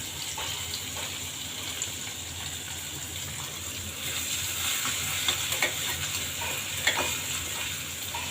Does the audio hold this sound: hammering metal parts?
no